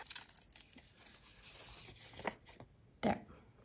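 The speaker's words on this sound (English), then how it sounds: "So now let's just tear around that and hopefully not tear into where we have sewn." A book page torn slowly by hand along stitching, a close, rasping rip with crinkly texture, ending in one sharp final tear.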